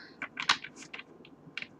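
Tarot cards being shuffled by hand during a reading, a quick run of soft, crisp flicks and riffles in irregular bursts, close and fairly quiet with no talk over them.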